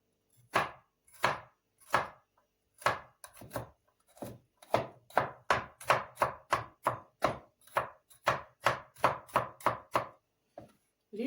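Peeled garlic cloves being minced very finely with a knife on a board: about twenty-five sharp, crisp chops in an uneven but steady rhythm, close and clear, with brief pauses and no talking.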